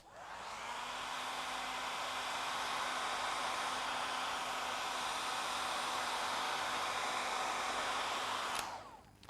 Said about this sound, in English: Now we're going to give this another quick hair dry.